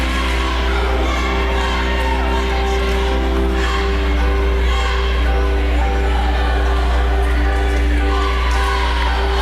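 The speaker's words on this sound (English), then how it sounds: "That was that cheerleader chant I was talking about." A cheerleader-led chant rolling through the crowd at a 2017 district high school volleyball match against Jackson High School, a continuous loud wash of massed voices and shouts with a steady hum underneath.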